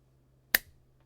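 A single sharp hand clap or snap, close and isolated against quiet room tone, its bright crack decaying quickly within a fraction of a second.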